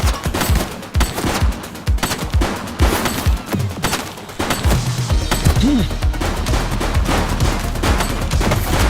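Gunfire in The Precinct, a police video game: dense bursts of rapid shots crack out loud and close, rattling in quick volleys over a rumbling background for the whole stretch.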